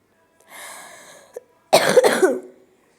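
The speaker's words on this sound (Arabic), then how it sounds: "بكتم الصوت وانا بكح" A person with a cold coughs with the mouth held closed, giving a muffled, throaty cough, a short breathy catch, then a louder close burst of two or three hacking coughs.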